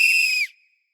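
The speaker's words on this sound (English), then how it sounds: "Since our super clue is a whistle, I want you to pretend like you have a whistle in your hand and pretend to make a sound." A whistle is blown once, a loud, bright, steady shrill tone lasting about half a second that then cuts off sharply, leaving a brief fading tail.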